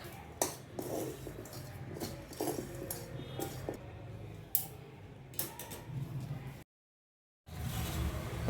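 Ground sugar is stirred into a cooled kadai, giving close, quiet, irregular scrapes and metallic clinks of a spoon against the pan, with a brief silent gap near the end.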